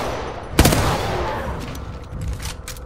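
Rifle fire in the Apex Legends video game, one loud sharp report early on followed by a ringing tail and fainter repeated shots later, close and alone with no talk.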